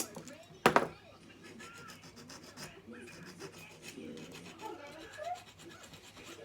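Plastic model part being smoothed with a file in a circular motion, a brief loud scrape near the start followed by softer, steady rubbing and rasping strokes close by.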